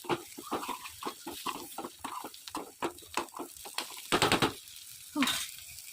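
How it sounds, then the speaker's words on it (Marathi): Stuffed brinjals, Satara-style bharli vangi, sautéing in a pan with a steady low sizzle and repeated stirring scrapes, with a louder burst of frying near the end. "मी हे अशी स्टफिंग केली आपली वांगी, त्यांना पण असं छान परतून घ्या."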